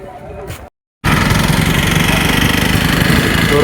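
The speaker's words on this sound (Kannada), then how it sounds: "ಈಗ ಗಾಡಿಗೆ ಹಾಕ್ಬಿಟ್ಟು ಗಾಡಿ ಸ್ಟಾರ್ಟ್ ಮಾಡಬೇಕು" A two-wheeler engine catches after being refuelled with petrol: a short rough burst, a moment of silence, then a loud, close, steady idle that carries on to the end.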